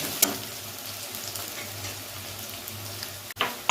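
Chopped onions frying in a pan for drumstick curry, a steady close sizzle with a sharp clatter of a spoon stirring near the end.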